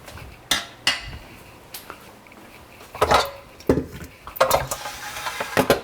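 A mixer beater being scraped clean and set down in a kitchen sink, with scattered metallic clinks, knocks and scrapes, some in quick clusters, close and fairly loud.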